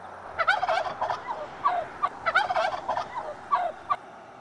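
A farm turkey gobbles repeatedly in quick rattling bursts, several rapid calls spread across a few seconds at moderate volume over a low background hiss.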